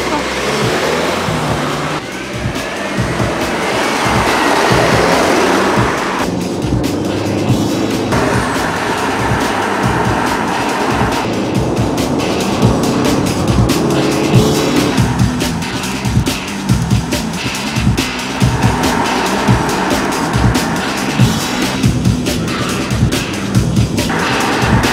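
A car accelerating during a chase at a fairground film shoot, a loud, steady engine roar that climbs and shifts pitch over about twenty-five seconds, close and dominant, with voices talking underneath.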